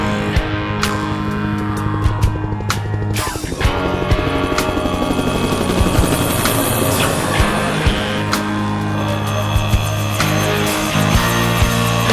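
A loud helicopter roars nearby with steady rotor thumping and engine whine, continuous throughout with no voices, on a mountain hunt for Okhotsk snow sheep.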